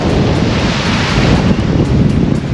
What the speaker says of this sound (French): il y a des vagues, vraiment des vagues croisées dans tous les sens